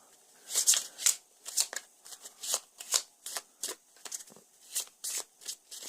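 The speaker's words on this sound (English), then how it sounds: "And one last shuffle" A deck of Arkham Horror game cards being shuffled repeatedly, crisp riffling bursts in a quick, uneven rhythm, close and clear with no talking.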